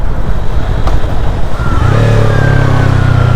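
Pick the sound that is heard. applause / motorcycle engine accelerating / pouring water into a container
motorcycle engine accelerating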